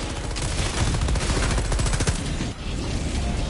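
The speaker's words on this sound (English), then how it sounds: "Machine gun!" A machine gun in Helldivers 2 rattles in a sustained, loud rapid-fire stream, with a brief break near the end before firing resumes.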